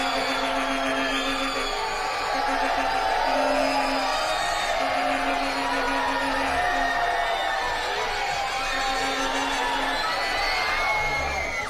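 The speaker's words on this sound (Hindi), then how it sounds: "लड़कियां क्या चीखती हैं यार, कसम खुदा की हद है" A studio audience of girls at a Pakistani game show screams continuously, a dense, loud wall of high shrieks and cheering that never lets up.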